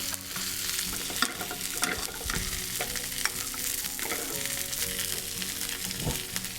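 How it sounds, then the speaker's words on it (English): A cauliflower steak sizzling in a hot pan with butter and thyme as it is basted: continuous close frying hiss with spoon clinks and scraping strokes, no talking. "turn the heat up again, and I'm just going to baste it a little bit."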